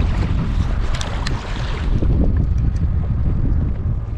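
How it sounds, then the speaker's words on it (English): Strong gusts buffet the microphone while someone paddles out on open water fishing, a steady roaring rush with low rumble and faint splashing throughout, close and loud, no voices. "It's definitely windier than what they said it was gonna be"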